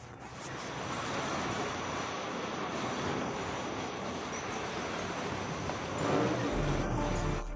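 A train rolls across a viaduct in Paris, giving a continuous rumble of wheels on rails with faint squealing, steady and fairly close, with no voices.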